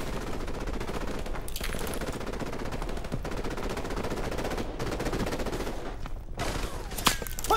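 Sustained automatic gunfire in the Call of Duty: Modern Warfare Remastered campaign, with dense, loud machine-gun bursts rattling continuously for several seconds, overlapping shots and a few brief gaps.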